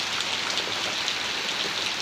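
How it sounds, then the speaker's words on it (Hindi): Heavy monsoon rain pours down in a flooded village in Vaishali district, Bihar, a dense, steady hiss of drops striking surfaces all around, with no voices over it. "तो ये बारिश बहुत ही तेज़ हो रहा है।"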